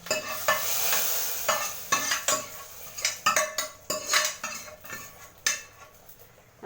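Spiced oil tempering poured into a pot of sambar and stirred, giving a brief sizzle followed by repeated scraping and clinking of a ladle against the metal pot, close and fairly loud with no talk.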